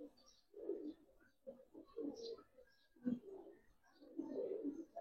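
Giribaz and coloured pigeons cooing in soft, low, throaty bursts that come and go in irregular pulses, fairly quiet and close with small chirps between.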